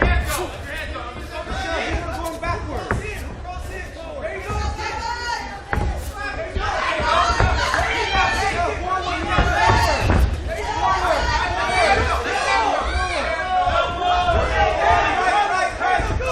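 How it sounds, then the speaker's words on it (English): A crowd at a female bantamweight fight roars and shouts continuously, with occasional thuds and slams, while commentators talk over the noise. "We have a lot of people in the crowd calling for elbows."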